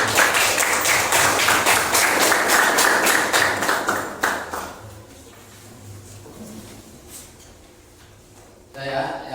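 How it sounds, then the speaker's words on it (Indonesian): A classroom of students claps for classmates, a loud burst of dense applause lasting about four seconds before fading into a quieter room with a few small knocks and a brief sound near the end. "Nah, tepuk tangan untuk teman kalian yang sudah mengerti."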